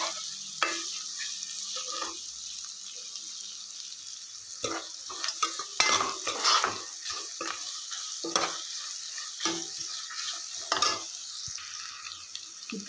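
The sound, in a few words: stirring frying onion and green chilies in pan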